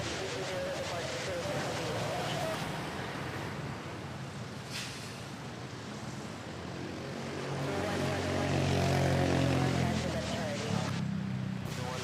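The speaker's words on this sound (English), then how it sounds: "Cebu Pacific from Hong Kong touching down." A Cebu Pacific airliner arriving from Hong Kong touches down at Manila airport, a broad distant engine roar that swells toward the end, heard under a continuous voice.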